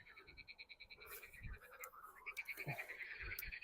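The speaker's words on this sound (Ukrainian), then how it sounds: "Жаби це, звісно, так." Frogs croak in a rapid, rhythmic chorus, steady pulsing calls overlapping at a moderate distance in a quiet outdoor setting.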